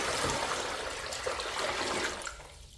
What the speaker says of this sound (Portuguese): Aqui a minha bacia é bem grande. Vou acrescentar 10 litros de água.